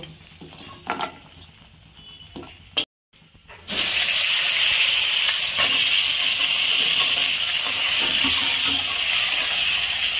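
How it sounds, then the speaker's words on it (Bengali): Eggplant pieces dropped into hot oil, a few clinks of utensils and then a sudden loud, steady hissing sizzle that continues close and unbroken. "এবার বেগুনগুলো ভেজে নেব"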